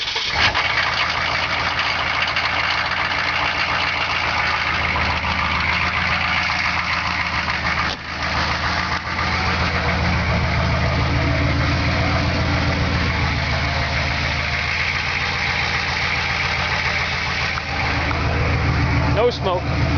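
A vehicle engine cranked over and left idling on a cold, snowy day, running steadily and close by throughout with only a brief dip, while people talk over it.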